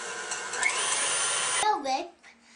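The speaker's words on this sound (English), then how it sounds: "mix it on high until it's stiff." An electric mixer runs on high whipping cream for a tiramisu cake, a steady loud whirring drone that cuts off abruptly, followed by a voice speaking.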